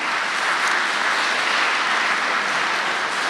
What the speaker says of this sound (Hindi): फिर ताली बजाओ भाई।